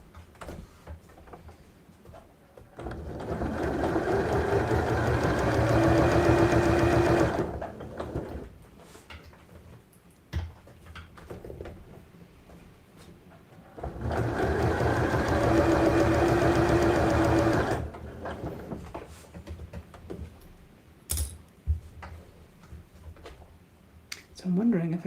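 A sewing machine stitches a fabric pouch in two bursts of steady motor whirring and needle chatter, separated by quieter pauses where a person talks.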